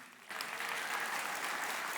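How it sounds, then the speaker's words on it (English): An audience at a CultureCon 2024 talk breaks into applause after a brief quieter moment, then sustains steady, fairly distant clapping from a crowd. "She deserves a round of applause."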